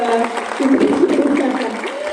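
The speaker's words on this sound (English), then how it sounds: "Maybe you can start with a round of big applause" Applause from an audience, a steady wash of clapping lasting throughout, fairly close and loud.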